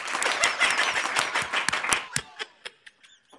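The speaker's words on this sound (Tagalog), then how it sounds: "Palakpak." Audience applause, a brisk burst of clapping that thins out into a few scattered last claps and fades, with chirpy voices faintly underneath.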